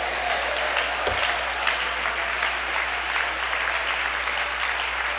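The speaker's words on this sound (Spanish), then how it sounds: "Fuerte ese aplauso" Church congregation applauding during a Spanish-language sermon: steady, dense clapping that fills the room at an even level from start to finish, with no voices rising above it.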